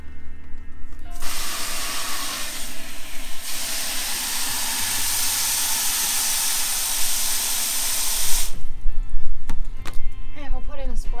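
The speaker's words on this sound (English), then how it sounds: "we put half the amount of water in that we're going to put in of grain" Water pours steadily into a container of goat grain, a smooth, loud hissing rush that lasts about seven seconds before stopping abruptly.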